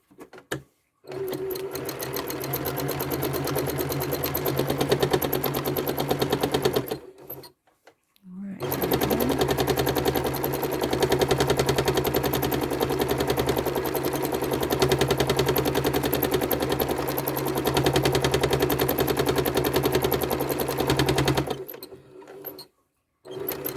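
A sewing machine stitches curved quilting lines in long, steady runs of rapid needle clatter, pausing briefly twice, loud and close with no talk over it.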